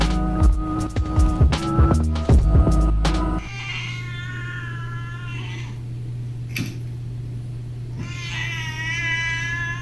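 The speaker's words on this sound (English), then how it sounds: "This is a cat." A cat meows and caterwauls in drawn-out, wavering cries, with a louder burst of clattering tones at the start and steady background hum beneath. Several separate yowls follow close to the microphone.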